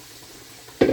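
Carrots, celery and onion hit a hot pan and start frying, a quiet moment giving way to a sudden loud sizzle that holds steady for the last instant.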